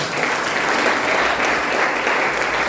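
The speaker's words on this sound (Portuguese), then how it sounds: "Você pode aplaudir o Senhor?" A church congregation claps together in a steady, dense burst of applause that stays loud and close, with no talk over it.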